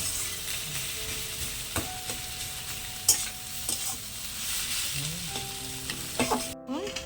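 Vegetables, taro stolons among them, are stir-fried in a pan, a continuous moderate sizzle under scattered scrapes and clinks of a spatula, a few sharper knocks near the end, and no one speaking.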